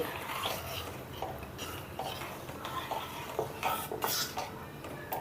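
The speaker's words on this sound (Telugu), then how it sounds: "ఇప్పుడు ఈ మిశ్రమాన్ని వేసి ఇలా కలుపుకుంటూ ఉడికించుకోవాలండి" Bombay chutney mixture being stirred into boiling water in a pot, steady scraping and clinking of a spoon against the vessel with a soft bubbling bed underneath, close and moderately quiet, no talking.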